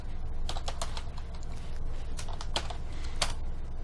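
Rapid, irregular clicking of keys on a computer keyboard, close and steady with occasional sharper strikes, no voices.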